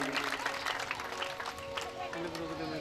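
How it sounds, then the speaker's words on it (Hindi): An audience at a rural devotional gathering claps in a steady, dense wash of applause, fairly faint and distant, with voices mixed in beneath. "जोरदार ताली बजा दो सभी दादा के लिए"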